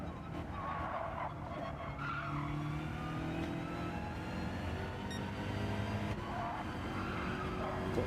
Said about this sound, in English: Tyres are sliding too much now when I'm pushing them hard.